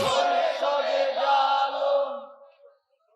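A crowd at an outdoor Bangla waz religious sermon roars a loud, sustained takbir chant in unison, swelling for about two seconds before trailing off into silence.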